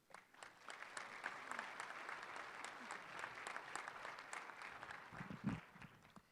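Audience applause welcomes the MC to the stage at an ice hockey awards banquet, a steady wash of many hands clapping that swells briefly near the end, with faint voices underneath.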